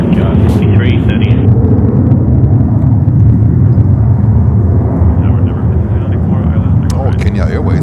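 An airliner takes off from runway 31 left at JFK in heavy winter winds, a loud broad jet roar building and sustained, with faint radio chatter mixed in.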